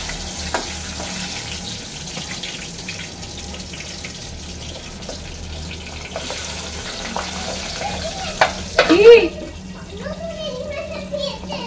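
Pabda fish frying in oil on a home stove, a continuous hissing sizzle that flares as more pieces go into the pan near the end, with people talking over it, including a child.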